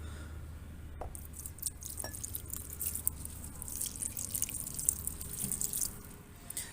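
Water poured onto potted supermarket herbs on a windowsill, a soft continuous trickle with scattered drips and splashes, close and fairly quiet, no talking.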